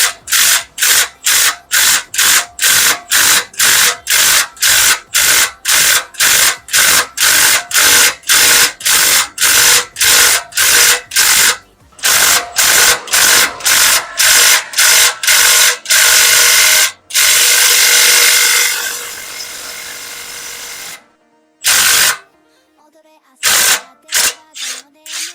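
A ratchet wrench with a 14 mm socket works loose rusty muffler bolts on a Suzuki AZ-Wagon, giving long runs of rapid, loud clicking strokes with a few pauses and a scraping stretch near the end.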